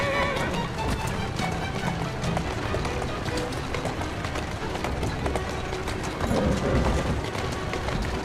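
Galloping horse hooves clip-clopping fast with a loud whinny in the video game Assassin's Creed Syndicate, mixed with game ambience and a little speech.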